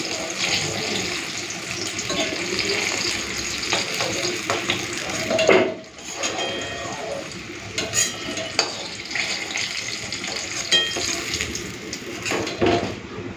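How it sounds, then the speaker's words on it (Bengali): Eggplant slices fry in hot oil in a pan, a steady soft sizzle and crackle running throughout with a few small clinks, moderately loud and close, with no talking. "বেগুন ভাজা হয়ে গেছে উল্টে পাল্টে লাল করে ভেজে নিয়েছি"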